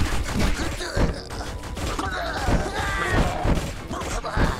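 Burst rifle fire in the twin-stick shooter and base-builder Sleep Tight, with repeated short clusters of sharp shots at roughly one-second intervals over a dense backdrop of game music and effects.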